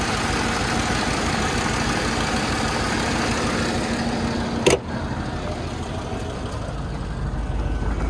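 A 2002 Lincoln LS V8 with 262,000 miles idles under the open hood, a steady, even engine drone with one brief sharp click midway, no talking.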